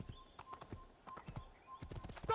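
Horse hooves clip-clopping in the video game Assassin's Creed, a quick uneven rhythm of close hoof strikes, with a faint snort or whinny and some game noise around them.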